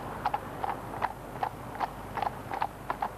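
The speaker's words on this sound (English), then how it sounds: "These horses love doing weddings and events" Horses' hooves clip-clop at a steady walking pace while pulling a wedding carriage, about ten crisp, fairly close strikes landing in pairs against a quiet background.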